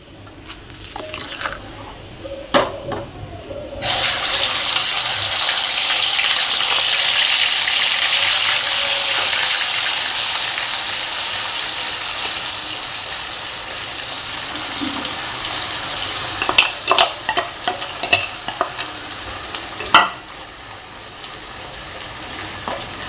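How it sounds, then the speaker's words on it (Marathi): Ground onion and tomato gravy hits hot oil in a pan for shahi paneer, bursting into a loud, sustained hissing sizzle after a few quiet knocks, then slowly easing with occasional spoon taps. "आता मी याच्यामध्ये कांदा आणि टोमॅटो याची बारीक करून घेतलेली ग्रेव्ही घालणार आहे।"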